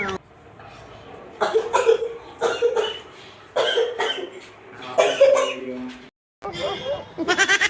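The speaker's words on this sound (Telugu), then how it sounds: "దగ్గు దగ్గు" A person coughs in several harsh bursts, with short pauses between them and voices close by.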